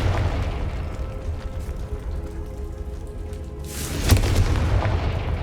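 A spell explosion in a video game: a steady rumbling roar builds, then one loud, sharp blast bursts out near the end and its noisy tail carries on.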